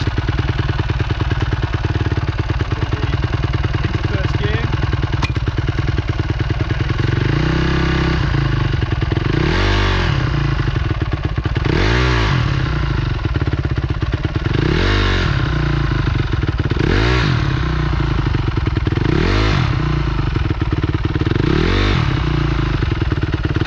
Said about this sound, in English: is starting the bike and then just practicing feeling that bite point and stopping and not taking off